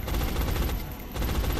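Sustained suppressing fire from a soldier's rifle in the turn-based strategy game XCOM, a loud, dense burst of rapid gunshots that runs nearly unbroken with only a brief dip midway.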